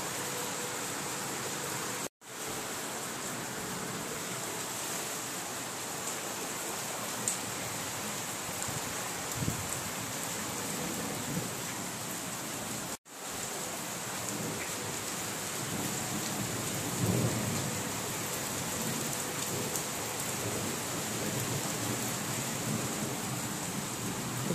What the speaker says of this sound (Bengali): বিশাল বৃষ্টি হচ্ছে কালকের মতো